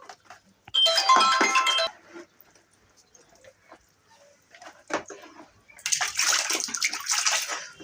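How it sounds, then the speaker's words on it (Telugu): AC filters are dunked and swished in a bucket of water, giving two bursts of splashing and sloshing separated by quieter handling noises. "ఇలా బకెట్లో వాటర్ తీసుకొని వీటిని ఫిల్టర్స్ని వాటర్లో ఇలా ముంచేస్తే"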